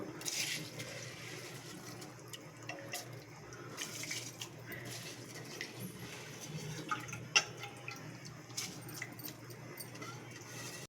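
Water is added to rice for mushroom biryani, making a soft, intermittent splashing and trickling close by with small clinks, against a quiet kitchen background.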